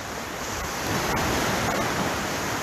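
Sea waves wash around someone paddling at a beach in January, a continuous broad rushing surge mixed with wind buffeting the microphone, no voices.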